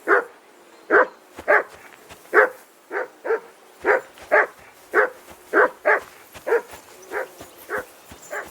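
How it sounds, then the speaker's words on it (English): A dog barks steadily in the video game Kingdom Come: Deliverance II, roughly one or two barks per second, each sharp and close, with short quiet gaps between them and no other sounds. "Jesus, Henry, that barking's driving me nuts."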